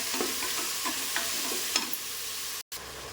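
Tomatoes sautéing with curry leaves in a pan for tomato biryani, a steady broadband sizzle with several soft scraping stirs, near and moderately loud, briefly cut to silence near the end.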